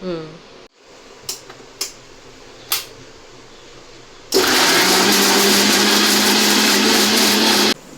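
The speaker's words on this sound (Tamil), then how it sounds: "தக்காளிலாம் கட் பண்ணி வச்சுட்டேன், அதை அரைச்சி எடுத்துகிட்டு வந்துடலாம்" A few faint clinks, then a mixer grinder grinding tomatoes starts up and runs loud and steady for several seconds before switching off.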